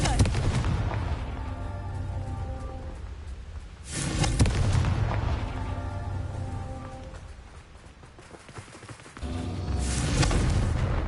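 Spell explosions in a Harry Potter video game, three loud booming blasts at roughly even intervals over a rumbling game soundscape, each hit sharp and broad.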